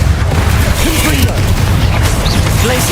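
Booming explosive spell blasts from a dark-arts duel in Hogwarts Legacy, dense and continuous with rumbling low impacts, heard amid a crowded mix of game effects and a voice shouting spell names.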